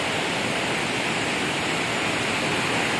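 Steady roar of water pouring down Aliwagwag Falls, the gentler side of the cascade, a continuous broadband rush filling the whole stretch with no voices.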